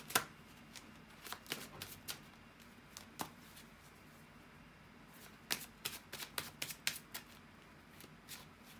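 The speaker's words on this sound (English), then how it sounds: "bear with me a second, guys, to shuffle the tarot cards" Rapid riffling of a card deck, several bursts of crisp shuffling with pauses between, close and fairly quiet, no talking.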